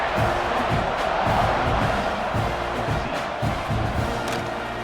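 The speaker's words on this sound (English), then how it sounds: "You think this crowd's going to get loud when their defense comes on the field?" Stadium crowd noise from the NCAA 26 college football video game, Texas A&M against Ole Miss, a steady loud roar with rising cheers and whoops around a kickoff, continuous over the full stretch.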